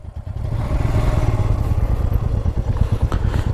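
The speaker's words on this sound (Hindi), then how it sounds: "बाइक जो है यहाँ पर स्लिप हो गई" Motorcycle on a mountain road to Adi Kailash, engine running loud and rough with continuous clattering and scraping, consistent with the bike slipping and going down on the road surface.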